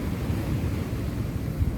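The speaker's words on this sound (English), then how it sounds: "I can just let you listen to the waves" Ocean waves wash steadily onto a sunny island beach, a continuous low rumbling surf with some wind buffeting the microphone, no voices.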